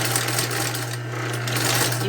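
Sewing machine stitching along the edge of a synthetic-material Bible cover flap, a steady close motor whir with fast continuous needle rhythm running alone throughout.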